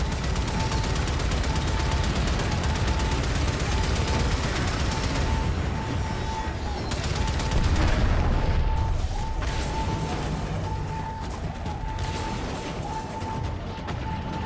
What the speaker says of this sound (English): Arming torpedoes, locking on to their signature,